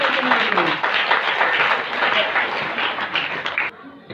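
A congregation at a Christian healing prayer meeting claps together in a dense, fairly loud burst of applause with a faint voice at the start, then the clapping stops abruptly near the end.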